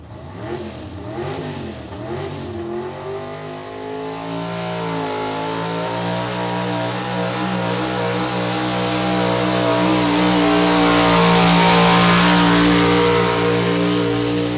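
A 6,000-class farm tractor at a tractor pull at the Lawrence County Fair in Ohio: the engine revs up from a rough idle into a loud, sustained, rising roar that builds steadily and holds near the end.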